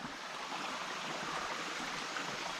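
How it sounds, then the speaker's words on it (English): A mountain creek flowing beside a trail, a steady continuous broadband rush of running water, close and even throughout with no voices. "As you do follow this creek right along."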